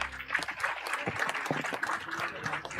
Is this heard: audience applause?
yes